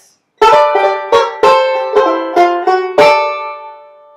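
Banjo picking a chordy Reno-style lick from I'll Fly Away, with six sharp plucked chord strums in a bouncy rhythm and bright ringing harmonics, the last one left to sustain; close and loud, with no talking.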